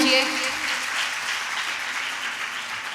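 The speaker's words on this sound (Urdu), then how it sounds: "بھرپور تالیوں سے استقبال کیجیے" Applause from an audience at a breast cancer awareness event fills the space, steady clapping that holds at full strength and begins to fade slightly toward the end.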